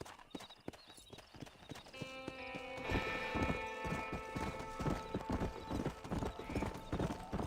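A rare horse in Red Dead Redemption trots with steady, close clip-clop hoofbeats, joined by a drawn-out whinny and faint bleating livestock in the background.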